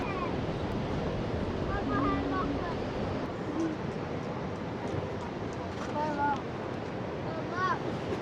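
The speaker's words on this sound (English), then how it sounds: "it's a windy day, but it's not like crazy windy" Wind blows across the coast at Margaret River, a constant broad roar buffeting the microphone, with faint, brief voice fragments now and then underneath.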